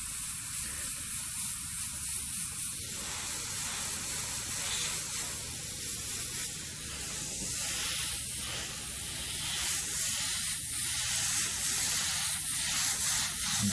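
An airbrush sprays paint while a skull and flame design is painted, giving a steady, close hiss that swells and eases slightly across the whole stretch, with no talking.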